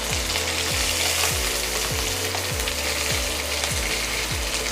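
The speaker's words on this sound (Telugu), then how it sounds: "ఇవి గోల్డ్ కలర్లోకి వచ్చే వరకు వేయించాలి." Onions, curry leaves and green chillies fry in hot oil for a chicken curry, giving a constant bright sizzle with a steady rhythmic scraping of a stirring spoon repeating about every half second.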